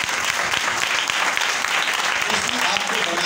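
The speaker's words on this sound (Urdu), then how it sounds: "اس کے لیے زوردار تالیاں ہیں" Loud, steady applause from a church congregation at a Sunday service fills the whole stretch, dense clapping with crowd noise and no break.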